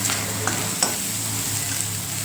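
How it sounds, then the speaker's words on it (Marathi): Onions sizzle steadily in a hot iron wok, a constant frying hiss with a few soft clicks of stirring. "कांदा बघा जवळजवळ भाजत आलेला आहे इथे मी आहे ना लोखंडाची कढई घेतलेली आहे"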